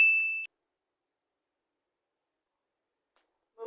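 A single bright notification bell ding rings out clearly at the start and fades within half a second, followed by silence until a brief voice-like sound at the very end.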